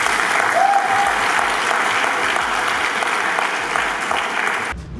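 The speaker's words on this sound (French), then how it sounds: "encore un applaudissement pour lui" An audience applauds a slam poet at a talk, with sustained, even clapping from a crowd that fills the whole stretch and cuts off abruptly near the end.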